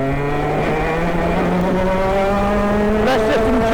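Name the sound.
racing car driving on track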